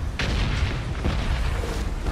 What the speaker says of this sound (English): Oh, those are big ass explosions.